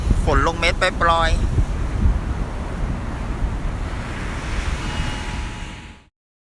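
Heavy ocean surf rolls in a steady roar on an island beach before Hurricane Dorian, mixed with wind noise, with a brief voice near the start before the sound cuts off.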